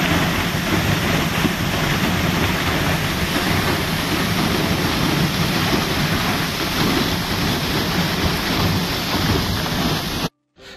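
Heavy rushing water at the Croton water supply after heavy rains, a loud, dense, unbroken roar filling the whole stretch before cutting off abruptly at the end.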